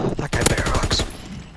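A burst of rapid gunfire from Call of Duty: WWII multiplayer, a fast rattling run of close shots lasting about a second, mixed with a voice speaking and trailing into quieter game ambience.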